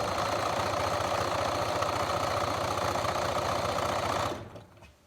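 Sewing machine runs a steady, rapid stitching rhythm along a pajama pants seam, with a back stitch at the edge, close and continuous before stopping abruptly near the end.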